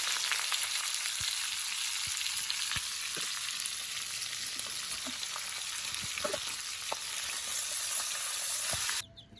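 Onion and garlic sizzle with pork in a pan, a dense, steady hiss of frying with scattered pops and crackles running continuously throughout, fairly close and even in loudness.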